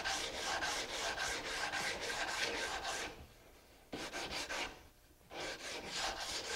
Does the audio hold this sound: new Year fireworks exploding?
no